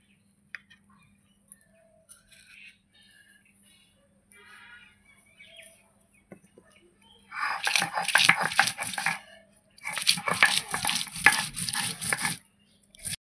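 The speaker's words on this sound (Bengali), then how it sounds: "এর সঙ্গে আমি কাঁচা লঙ্কাটাও বেটে নেব।" Green chillies being ground together with mustard paste by hand, coarse scraping and grinding strokes in two loud bursts after a quiet stretch of faint ticks and small kitchen noises, close by with no talk.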